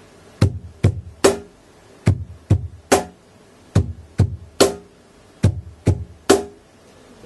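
Cajon basic beat played by hand in a steady bass, bass, snare pattern: two deep thumps then a sharp slap, repeated cleanly and close with no talking.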